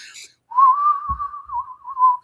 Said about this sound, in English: the whistling sounded like somebody was just sitting there